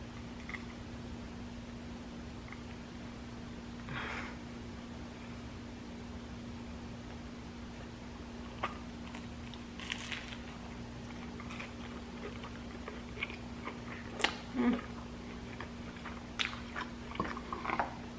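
Crunchy bites and chewing of crispy Cuban pork roast and black bean sliders with cheese, quiet and close, with scattered soft crunches that grow more frequent toward the end over a steady low hum.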